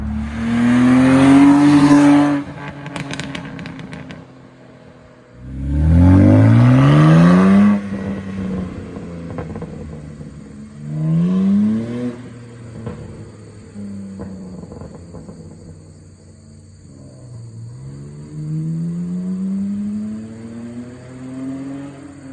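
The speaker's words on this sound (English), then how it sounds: "I can put in some clips of the car before and after all the exhaust modifications that I did." BMW E90 with an N52 engine and modified exhaust, revving hard in repeated loud pulls with rising engine pitch, dropping between bursts, with crackles and pops on the overrun, close and alone.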